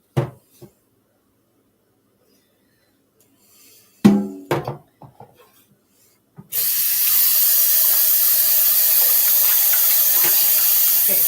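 Smoothie cups rinsed under a running kitchen tap: a few knocks and clatters of cups first, then a steady, loud rush of water pouring continuously into the sink.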